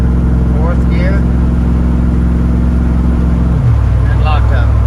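A car's engine drones steadily from inside the cabin on a test drive, with one clear automatic transmission shift near the end where the engine tone drops, while someone talks over it.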